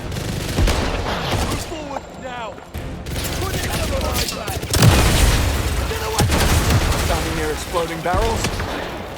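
Barrels exploding in the video game 007 First Light, heavy booms and bursts of gunfire rumbling close and loud, with voices speaking over the chaos.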